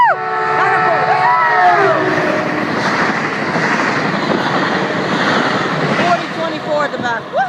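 A train passes Burlingame station with a loud, steady roar of rumbling wheels and engine that holds for several seconds, while whooping voices cheer nearby at the start and end.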